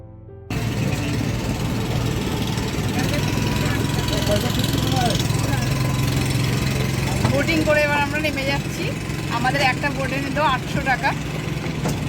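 A motor boat engine drones steadily throughout a river ride, loud and close and continuous, with people chatting over it.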